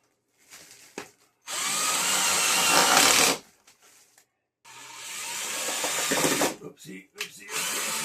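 A power drill drives screws into a studio light wall mount, with two long whirring bursts separated by brief silence and a few quieter knocks and handling sounds.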